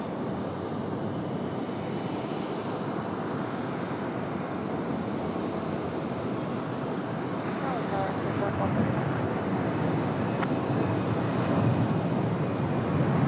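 An airplane at Raleigh Durham airport makes a steady, loud engine roar that swells slightly toward the end, with voices talking over it.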